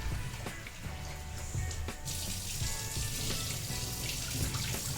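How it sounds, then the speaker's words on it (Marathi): Water runs and splashes steadily as chana dal is rinsed by hand in a bowl under a tap, close and continuous. "चणा डाळ आपल्याला व्यवस्थित स्वच्छ असे दोन ते तीन पाण्यामध्ये धुवून घ्यायची आहे"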